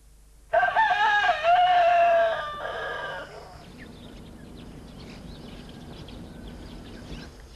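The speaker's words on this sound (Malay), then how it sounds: "Suasana bening bunyian unggas-unggas di selang-selik kokok ayam." A rooster crows loudly and close by on a quiet rural morning near orchards, one long harmonic cock-a-doodle-doo followed by a second call, then fading into soft ambient birdsong and farm background.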